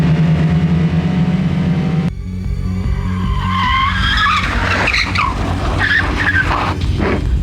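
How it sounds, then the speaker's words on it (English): Race cars skid and squeal on a track such as Laguna Seca, with a loud engine drone giving way to sharp, wavering tire squeals that overlap and repeat through the second half. "The cars will be able to skid around."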